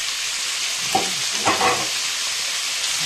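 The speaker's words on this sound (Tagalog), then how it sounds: "Fried chicken yan guys." Chicken frying in a pan for breakfast, a steady close sizzle throughout with a couple of brief louder spatters and stirs, no talking.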